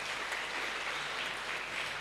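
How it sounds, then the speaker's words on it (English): Audience applause for the speakers at an international seminar on antibiotic resistance, a faint, steady wash of clapping from a room, fairly distant and without talk over it. "Give applause to all our speakers."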